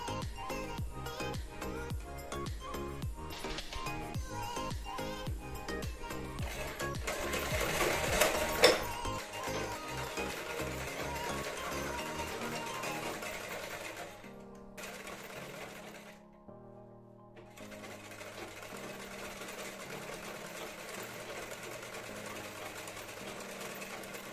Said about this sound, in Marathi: इथून ही एक खाली उसू नये म्हणून इथे शिलाई मारून घ्यायची बॉटमला